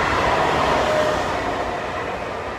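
A train passes nearby in Italy, a loud continuous rumble of wheels on track with a thin metallic squeal, slowly fading toward the end, with no talking.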